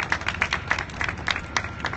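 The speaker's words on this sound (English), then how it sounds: "and I think they deserve a round of applause" Audience claps for a string quartet at a symphony campaign event: a short burst of quick, fairly faint, steady applause from a modest crowd.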